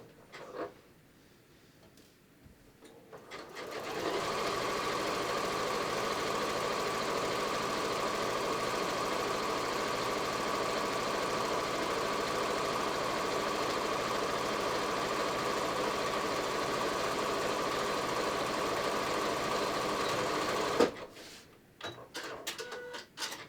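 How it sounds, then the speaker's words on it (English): Sewing machine running a zigzag stitch to attach a pocket onto yoga pants: a steady, close mechanical whir holds for about seventeen seconds after a quiet start, then stops abruptly. "I'm going to use the same zigzag to sew this on."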